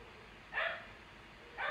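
Dogs barking in a game setting among horses, two short yipping barks spaced about a second apart, moderately distant and fairly faint over a steady background hiss.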